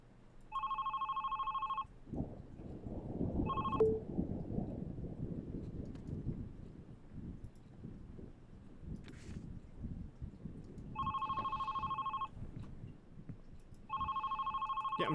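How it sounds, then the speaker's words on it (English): An old telephone rings in bursts of a double bell tone, sounding twice early on and twice again near the end, over a low rumbling background with no talking. "Yeah, I'm trying to answer the phone."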